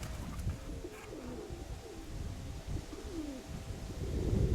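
Pigeons in a loft cooing softly, several low rolling coos repeating under faint background noise and light wind at the microphone.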